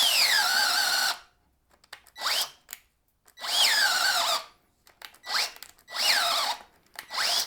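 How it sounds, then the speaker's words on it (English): A Ridgid drill on speed 2 drives a 3/4 inch self-feed bit into wood in four loud bursts, each a whining, squealing bore that drops in pitch as it loads, separated by short pauses and brief triggering. "let's try a 3/4 inch self-feed twist bit in the Ridgid on speed 2"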